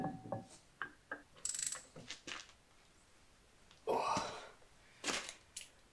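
A hand ratchet tightens cleaned, copper-greased brake caliper bolts on a Range Rover L322. Several short bursts of clicking come close and fairly loud, separated by brief pauses.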